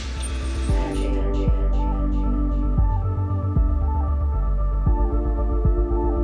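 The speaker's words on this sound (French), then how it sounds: "on a des machines qui mesurent la résistance du cheveu" A lab machine that tests hair strength by pulling on strands gives a loud, steady low hum with deep throbbing pulses and occasional mechanical clicks and thumps, with no voices.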